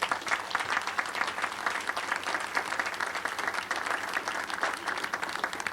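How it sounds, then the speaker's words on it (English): Dense, steady applause from an outdoor crowd at the grand opening of the Lake Wobegon Trail, many hands clapping together for several seconds without a break. "So let's give them a big round of applause."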